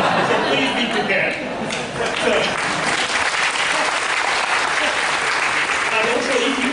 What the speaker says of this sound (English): you give a big applause